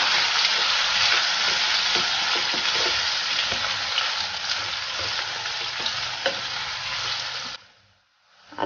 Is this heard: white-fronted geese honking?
no